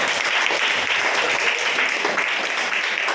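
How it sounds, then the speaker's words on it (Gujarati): A classroom of students claps for a fellow student, a dense, continuous burst of many hands applauding together at close range, steady and loud throughout with no pauses. "સાક્ષી માટે બધા તાળી પાડો"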